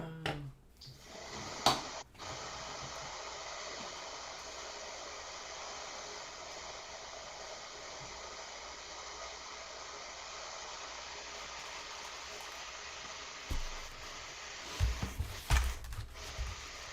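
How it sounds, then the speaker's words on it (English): A hair dryer blows steadily on airbrushed paint, a close, even broadband whoosh running about twelve seconds after a clatter at the start, then cutting off into handling thumps. "All right, I'm gonna get my hair dryer."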